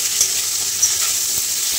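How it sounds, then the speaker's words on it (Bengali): Cauliflower florets frying in oil with salt and turmeric hiss in a steady, close sizzle, with soft spatula scrapes and taps breaking through at intervals. "দিয়ে আমি ভালো করে ফুলকপি ভেজে নেব।"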